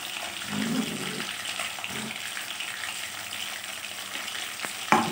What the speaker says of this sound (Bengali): দেখো আমার মাছটা এক পাট তো ভাজা হয়ে গেছে